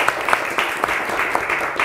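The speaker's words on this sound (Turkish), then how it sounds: "Her birine alkışlar göndermek istiyoruz." Studio audience on a Turkish word game show claps for the contestants, a short burst of close, moderately loud applause with distinct individual claps standing out from the steady patter.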